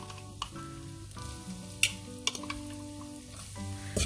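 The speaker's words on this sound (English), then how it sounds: "Give this all a quick stir." Finely chopped garlic and coriander seeds fry in a pan under a steady sizzle, with a few scraping clinks as they are stirred and a hum running underneath.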